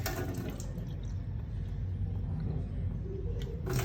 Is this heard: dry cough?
no